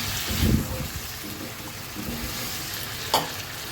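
Taro stems stir-fried with spices in a pan: a continuous hissing sizzle with a soft thump of food being turned near the start and a sharp scrape of the spatula toward the end, close, with no talk.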